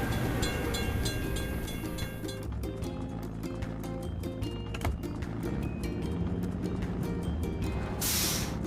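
Train rolling past a closed level crossing, heard as a steady rumble with repeated clacking from the wagons and a rising hiss near the end, broad and continuous throughout.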